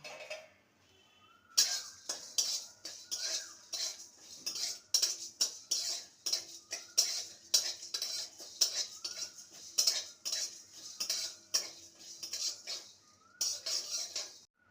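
Whole cumin, coriander seeds, cardamom, cinnamon and a dried red chilli dry-roasted in a kadai, a metal spoon clinking and scraping rhythmically against the pan, close and crisp, with no talk.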